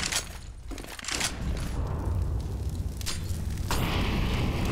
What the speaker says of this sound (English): A couple of nades into the B site.